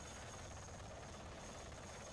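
Helicopter rotor noise during the 1975 evacuation of Americans from Saigon, a faint, continuous distant drone with no voices.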